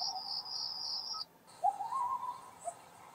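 Recorded cricket chirping from a night nature-sounds preset on a 2024 Kia Niro SX Prestige hybrid's infotainment system, a steady high trill broken by a brief pause, then resuming alongside a lower warbling call, no talking.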